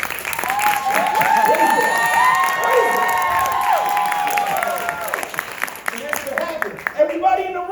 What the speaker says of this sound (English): Everybody in the room started cheering.